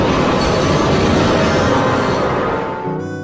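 A train rumbles past close by, a dense steady roar of wheels and cars on the rails that holds loud throughout and eases slightly near the end.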